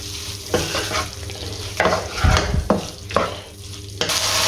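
A ketchup mixture for pizza paratha filling is stirred in a pan with a spoon, giving repeated scraping strokes roughly every half second over a soft sizzle, close and clear.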